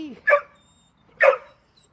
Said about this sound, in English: Are you a good dog?